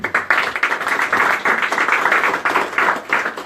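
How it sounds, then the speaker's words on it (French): An audience applauds M. Liby at a live Cameroonian panel debate evening, a steady wash of many hands clapping at close range throughout, with no talk over it. "Je voulais que l'on applaudisse M."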